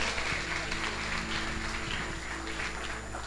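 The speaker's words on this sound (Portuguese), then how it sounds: "Aplauda com alegria no seu coração." A church congregation applauds during a worship service, a steady wash of clapping held at an even level for a few seconds with no talking over it.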